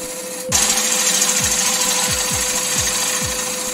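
A wood lathe spins at about 1400 rpm while a tool cuts the turning. The steady hum is joined by a sudden loud cutting hiss and regular low thumps repeating about every half second.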